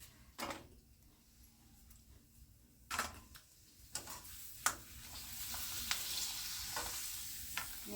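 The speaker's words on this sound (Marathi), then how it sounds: "पापड जास्त वेळा उलट पलट करायचा नाहीये एकदाच तळून काढायचा" Papad made from urad and moong dal fries in hot oil, a soft sizzle with a few sharp clinks and stirring knocks at a distance, fairly quiet overall with the frying hiss swelling toward the end.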